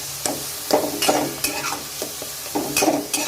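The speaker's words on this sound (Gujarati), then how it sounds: "હવે આપણે એમાં થોડું પાણી નાખીશું અને મસાલાને આપણે શેકી લઈએ" Turmeric and garam masala roast with a little water in a pan, giving a soft, close sizzle broken by repeated scraping stirs in an irregular rhythm, with no talk.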